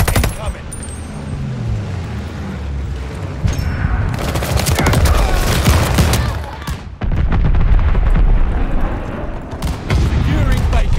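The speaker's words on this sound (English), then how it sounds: "Allies called a bomb strike. Incoming." Bomb strike explosions in Call of Duty Vanguard land as heavy, booming bursts mixed with rattling gunfire, loud and chaotic, with a voice speaking over the battle.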